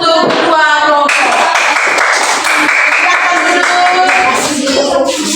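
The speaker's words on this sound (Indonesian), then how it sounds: "tepuk tangan untuk dua kelompok" Children in a classroom applauding two groups, a loud burst of dense, rapid clapping that fills the whole stretch, with voices mixed in.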